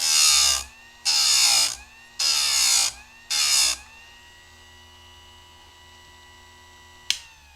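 A Harbor Freight chain sharpener grinds a saw chain in four loud bursts of about a second each, with a steady hum between them, then a single sharp click at the end.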